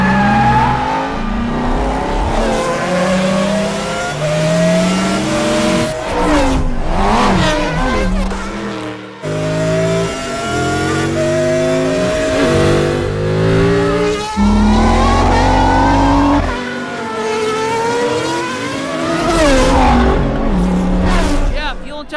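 Animated race car Lightning McQueen speeds past, loud engine whines rising and falling in pitch as it accelerates and revs repeatedly, mixed with music and voices, played back through a speaker.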